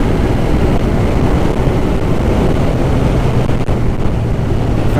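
Suzuki GSX-R 1000 litre sportbike cruising in sixth gear at around 45 mph, a steady low engine drone buried under constant loud wind rush across the microphone, with no talk.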